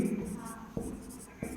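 Pen writing on paper with scratchy strokes and brief pauses, close and fairly quiet, during a Hindi spelling lesson on the word for women's empowerment.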